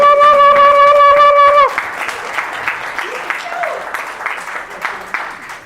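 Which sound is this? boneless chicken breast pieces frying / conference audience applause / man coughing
conference audience applause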